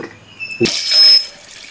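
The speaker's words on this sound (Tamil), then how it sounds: "அடுத்ததாக நாக்கை வச்சு தண்ணி ஊற்றிக்கலாம்" Water splashes and pours into a metal pressure cooker holding beef tongue for about a second, after a short clink, then settles into a quieter trickle.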